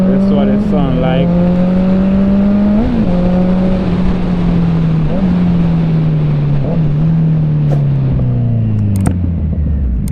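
Motorcycle engine heard through a GoPro helmet microphone on an Icon Airflite helmet while riding, a loud steady drone with pitch rising and falling through gear changes under constant wind rumble.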